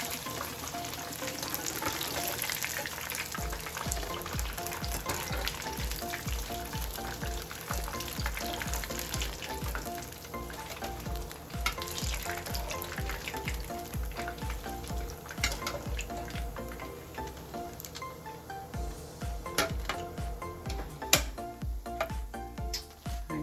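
Vegan calamari frying in oil in a pan, a loud continuous crackling sizzle close by, with occasional clinks and taps of a utensil.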